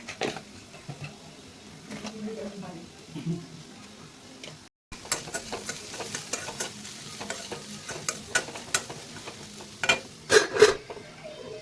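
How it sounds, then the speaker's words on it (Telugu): Bitter gourd pieces with turmeric and salt frying in a pan, stirred with repeated scraping clicks over a steady sizzle that briefly cuts out, then busier stirring and louder knocks near the end. "ప్రతి 2-3 నిమిషాలకు ఒకసారి కాకరకాయని కలుపుతూ ఉండాలి."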